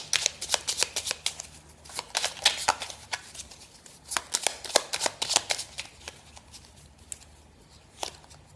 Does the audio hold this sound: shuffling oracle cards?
yes